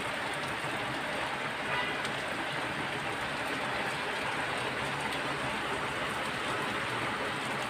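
Heavy morning rain falls in a constant, close wash of hiss that stays level from start to finish, with no talking.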